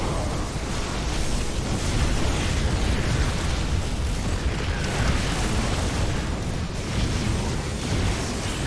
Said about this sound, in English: Fire a disruptor shot.